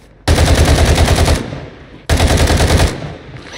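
Gunfire in a video game: two sustained bursts of rapid automatic shots, each lasting over a second, loud and close with a short pause between them.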